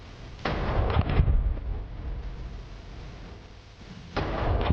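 Heavy booming reports from an AK-50 rifle firing, several blasts in a loose cluster early on and another near the end, each with a rumbling tail over steady background noise and no talking.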